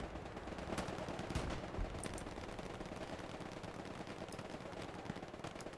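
Sustained automatic gunfire from a strafing run in the multiplayer war game Hell Let Loose, with dense overlapping bursts and sharp cracks of rifle fire over a constant battle roar.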